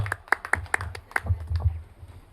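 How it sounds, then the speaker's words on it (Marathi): A small audience at a tribal literature gathering in Jawhar gives brief, scattered hand claps that thin out quickly, close and fairly quiet. "या दादांसाठी एकदा जोरदार टाळ्या होऊ द्यात"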